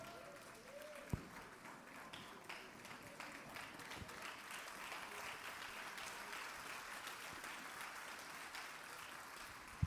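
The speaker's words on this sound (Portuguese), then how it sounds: "Pode se assentar aplaudindo ao Senhor." A church congregation claps together in a sustained round of applause, a dense patter of many hands filling the room, fairly distant and steady.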